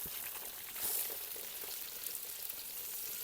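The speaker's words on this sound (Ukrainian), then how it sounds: "Цибуля нарубана півкільцями в казан." Onions sizzle and crackle steadily in a hot cauldron, a close, dense frying hiss with small pops throughout.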